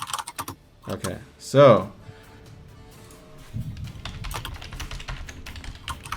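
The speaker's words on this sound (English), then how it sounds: "Aggressive typing noises." Rapid, forceful typing on a computer keyboard clatters in dense bursts of key strikes during a tabletop gaming stream, with a brief spoken word near the start and a louder burst of noise partway through.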